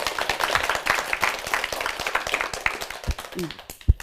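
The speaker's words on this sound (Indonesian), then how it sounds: "Beta minta tepuk tangan dulu per teman-teman." A crowd at a TVRI Maluku open mic comedy show claps, a busy rattle of hands that thins toward the end as a voice starts to come through.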